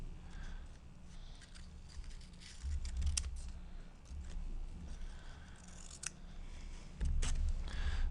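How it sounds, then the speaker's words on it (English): A child cuts paper with scissors indoors, making a run of soft, close snipping and rustling sounds with uneven pauses and a low background hum. "I'm cutting all the paper."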